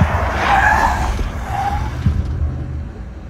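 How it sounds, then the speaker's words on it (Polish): Tires of a Lexus RX 500h skid and squeal through a 50 km/h moose-test lane change between cones, a sustained screech with a second squeal burst, over steady engine and road rumble, no talk. "Test łosia 50 km na godzinę."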